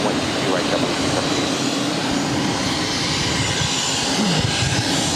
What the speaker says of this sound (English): This Pilatus PC-12 is coming in from Masena, Boutique Air, 863.